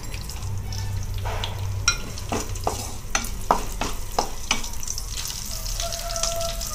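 Whole spices, green chillies and fennel seeds frying in oil: a steady close sizzle with a series of crisp taps and crackles from stirring through the middle.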